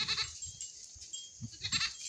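Goats bleating outdoors on open grazing land in rainy weather, sheep nearby, a couple of short, fairly close calls over soft background noise.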